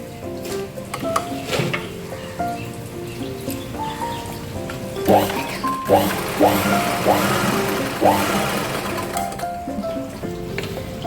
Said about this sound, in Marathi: तर आपण आता पहिल्या आधी गळ्याची शिलाई करून घेणार आहोत इथे गळ्या गळ्याला शिलाई